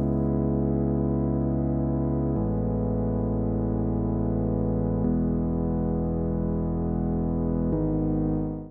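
Granular layered synth chords from a music production session play as sustained, thick pads, shifting to a new chord roughly every two and a half seconds, loud and continuous with no voice over them.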